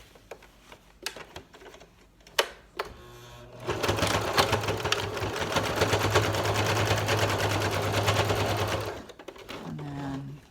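A sewing machine stitches fabric face masks in a fast, even whirring run of about five seconds, preceded by scattered clicks and handling of the cloth, and followed by quieter fabric handling.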